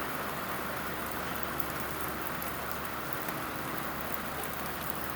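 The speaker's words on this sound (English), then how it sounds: "Heavy rain." Heavy thunderstorm rain pours steadily, a dense, loud, unbroken hiss of drops striking surfaces close by, with no voices.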